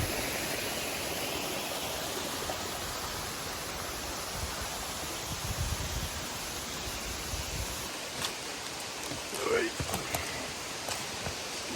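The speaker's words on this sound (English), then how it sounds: "Really nice looking waterfall." A waterfall in the Gondwana rainforest roars as a steady, broad rush of falling water that fills the whole stretch, with faint rustling and a brief, quiet voice near the end.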